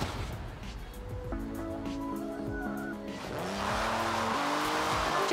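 A Jaguar car drives in the Forza Horizon 4 racing game, its engine droning steadily with rising and shifting tones and brief tire squeals, loud and continuous throughout.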